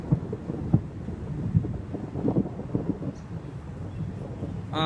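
Thunder from a summer thunderstorm over Nanuet, New York, rolls as a low, continuous rumble with a few sharper cracks, distant and steady with no voices.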